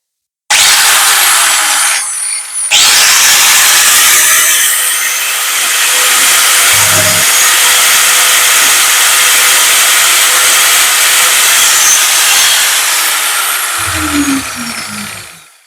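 A Bosch GWS700 700-watt angle grinder runs steadily at full speed for an RPM test, a loud, close, high-pitched whine that holds for about twelve seconds after a brief stop, then winds down, with no talking.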